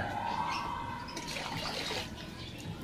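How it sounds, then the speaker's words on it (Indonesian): Water is poured to rinse spilled acid off a motorcycle battery, giving a steady close splashing trickle that runs throughout the clip and eases slightly toward the end. "ini juga kita siram ya, bekas-bekas tumpahan dari air zur ini."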